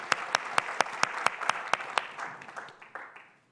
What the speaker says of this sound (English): you really deserve applause as well